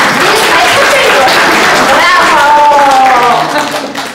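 An audience at a school ceremony for a graduating fourth-grade class applauds with dense, lively clapping that fills the room while voices call out over it, tapering off at the end.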